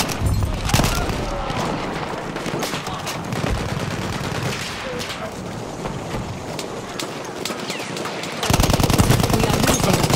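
Automatic bursts from a BAR M1918 rifle in Battlefield 1 at Cape Helles, loud rattling volleys mixed with other battlefield gunfire and clatter, getting louder near the end, with voices now and then.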